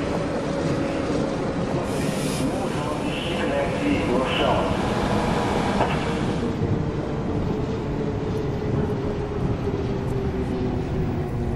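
A Série 900 Supervia commuter train running on Linha D between São Caetano do Sul and Brás in the OpenBVE simulator, giving a steady, loud rumbling hum with a faint hiss and squeal near the start.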